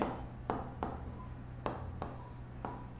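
Chalk or marker writing on a board during a Hindi-medium maths lecture on sets, a steady scratchy scrawl punctuated by sharper tapping strokes roughly every half second, close and moderately quiet over a low room hum.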